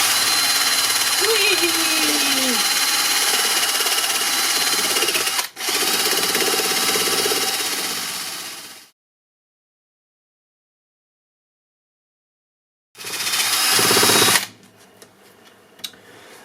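A battery drill whirs loudly for several seconds, with a wire brush grinding against metal, then stops; after a pause it spins up again briefly before cutting off.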